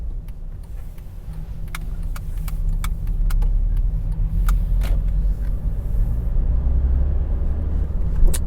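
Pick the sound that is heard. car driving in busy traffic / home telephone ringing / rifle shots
car driving in busy traffic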